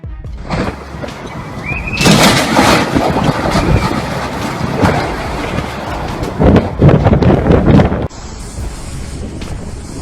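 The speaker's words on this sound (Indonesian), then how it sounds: "Angin kencang porak-porandakan Moskow." Strong storm wind roars and buffets the microphone in loud, irregular gusts over a city street in Moscow, with a rumbling broadband rush that surges and drops abruptly near the end.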